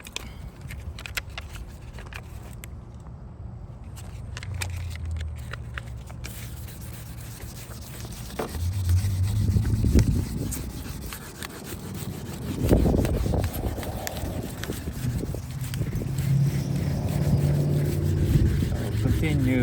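Repetitive rubbing scrape of wet 1000-grit sandpaper working back and forth on a car headlight, close up and fairly quiet, growing stronger in the second half.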